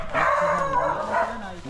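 Several dogs barking outside a house, a brief burst of close yelping barks with a voice talking over them.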